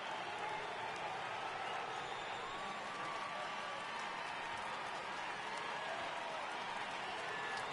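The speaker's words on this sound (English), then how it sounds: "Crowd gets up for the 3-2." Steady, dense roar of a baseball stadium crowd in MLB The Show, rising as fans get up for a full 3-2 count, a continuous wash of cheering and applause with no pauses.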